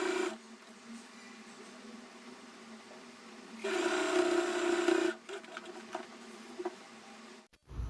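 Sewing machine stitching the hook strip of a simple Tamil-style blouse, a close, steady mechanical patter that runs softly, then louder for about a second and a half mid-clip, with short stops and handling noise.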